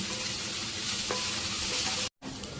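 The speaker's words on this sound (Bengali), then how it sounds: "এখন ডালটা একটু ভেজে নেব।" Lentils (dal) seasoned with salt fry in a pan for a Bengali home-style dish, giving a constant dense sizzle with scraping stirs, close and loud, cut by a brief silent gap near the end.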